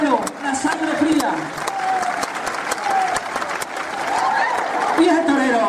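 A crowd at a bull-leaping exhibition in Montánchez clapping, a steady spread of applause under a loud announcer's voice calling out and some chuckling.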